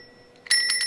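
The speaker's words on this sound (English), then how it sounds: "In fact, I'll get my bell here" A small hand bell rings sharply in a few quick, bright strikes that sustain into a clear metallic shimmer, loud and close.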